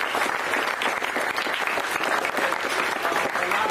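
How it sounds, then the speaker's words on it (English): A crowd of young athletes and others at a sports camp showcase claps for the visiting college coaches, brisk individual claps audible within a lively, moderately loud round of applause. "Let's give them a round of applause."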